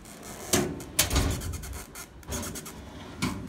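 Drawers on a new metal Husky toolbox slide and clunk open and shut several times close by, with rattling metallic scrapes and knocks.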